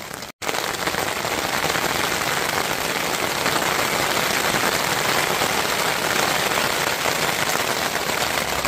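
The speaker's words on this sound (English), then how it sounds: "the rain has decided to join us." Steady rain falls hard on a surface, a dense, even hiss of drops that continues throughout after a brief dropout at the start.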